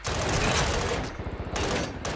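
Dense, rapid gunfire in Call of Duty in a duos Resurgence match, loud overlapping bursts of automatic fire with short gaps between them.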